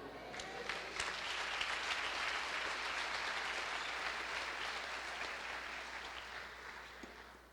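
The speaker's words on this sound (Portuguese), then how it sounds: "Você pode dar um glória ao Senhor e aplaudir a Ele?" A church congregation applauds during a Portuguese-language sermon, a steady wash of clapping heard from a distance at modest volume that fades slightly toward the close.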